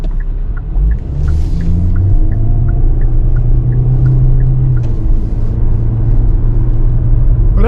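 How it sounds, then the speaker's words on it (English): Steady, loud engine drone from a 2024 Kia Soul's naturally aspirated 2-liter while driving, a low continuous rumble with slight rises in pitch as it pulls away, heard from inside the cabin with no talk. "But as you take off, you're going to get that engine noise from this naturally aspirated 2-liter."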